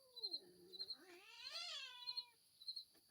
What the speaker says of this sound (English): that little kitten don't like Libby